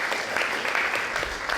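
Audience applause for a comedian taking the stage at a stand-up comedy show, a steady, dense patter of many hands clapping at once, filling the room evenly from start to end.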